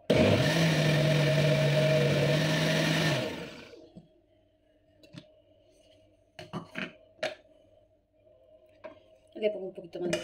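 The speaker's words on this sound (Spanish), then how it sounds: "y empezamos a batir." A blender purees a sweet potato, apple and turmeric soup with a loud, dense whirr for about three seconds before cutting off, followed by sparse quiet clinks and kitchen knocks.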